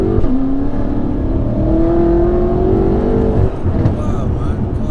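A 1000bhp BMW M5 pulls hard under acceleration on a night drive, its engine note rising in a sustained climb with a brief dip near the end; voices talk over the steady roar from inside the car.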